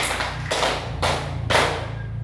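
Two group claps in a classroom pattern exercise, each a broad burst of many hands sounding close and fairly loud, with a low background hum throughout.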